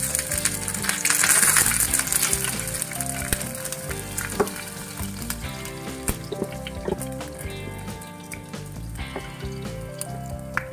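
Curry leaves and green peppercorns frying in hot oil in a pan for a fish egg fry, a loud continuous sizzle and crackle with occasional metallic clinks of a spoon, close up and without speech.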